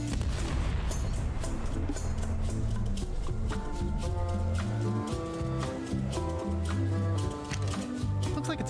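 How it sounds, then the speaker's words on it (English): Cannon fire in Return to Monkey Island, a burst of booming shots clustered amid a busy musical score and game sounds, loud and continuous throughout. "Let's fire the cannon."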